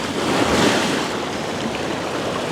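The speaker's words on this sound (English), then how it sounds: "Here comes a big wave again." Ocean waves breaking on an Iceland shore, a close broad wash of surf swelling early then settling into a steady roar, with some wind rumble on the microphone.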